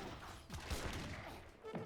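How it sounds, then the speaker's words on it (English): Heavy cannons fire in the Age of Empires 3 real-time strategy game, a faint, muffled volley of booms and rumbling battle noise heard at a distance. "Yep, heavy cannons now coming out."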